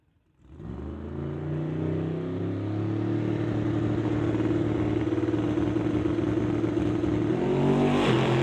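A 1966 Mustang drag race car engine fires up and holds a loud, rough, steady rev with a dense rumbling tone, building slightly toward the end.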